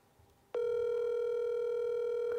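Telephone ringing tone of an international call to China, a steady electronic tone that starts abruptly after faint background and holds continuously, clear and close.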